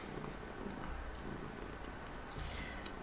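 A cat purrs close by in a steady, continuous low rumble that holds evenly for the whole stretch, with no other sounds standing out.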